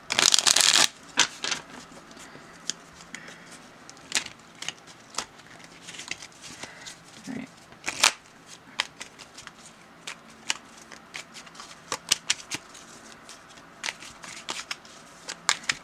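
Mini Rider-Waite tarot cards being shuffled by hand, a flurry of soft riffling and slapping card sounds, a dense burst at the start followed by scattered taps and flicks, close and fairly quiet.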